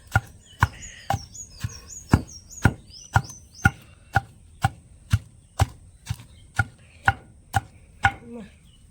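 A pestle pounds ingredients for Andhra avakaya mango pickle in a mortar in steady, evenly spaced thuds, about two per second, close and sharp, with faint birdsong in the background.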